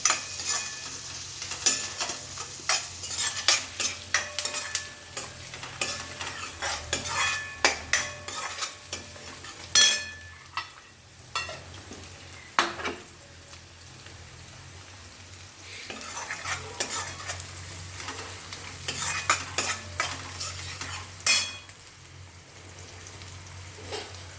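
Poha being roasted in a little oil while it is stirred, a loud sizzle with repeated scraping strokes and bursts of crackle, steady and close, with no one talking.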